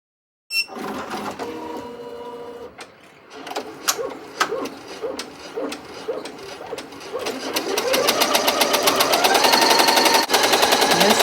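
A Ricoma EM 1010 embroidery machine stitches a sweatshirt, starting with spaced mechanical thumps that build into a fast, steady rattling chatter of needle strokes, close and loud throughout.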